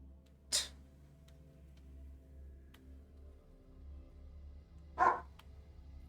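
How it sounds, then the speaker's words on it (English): A dog in the video game Wuthering Waves barks twice, two short sharp yelps about four and a half seconds apart that stand out clearly over a quiet ambient game background. "I hear the dog."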